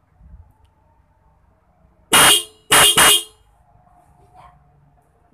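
Loud, close Denso dual-disc car horn blasts: one short honk followed quickly by two more, with quiet background before and after.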